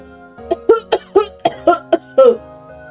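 An old man coughs about eight times, harsh and raspy, in quick succession, close and loud, ending in a longer strained cough.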